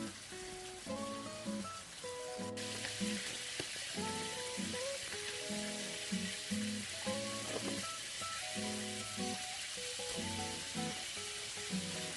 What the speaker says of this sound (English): We don't fry it too long. We just slightly fry it.